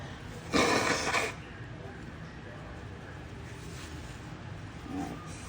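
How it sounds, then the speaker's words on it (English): A short, loud burst of nose blowing, lasting under a second, followed by quiet room tone and a faint rustle. "blow my nose."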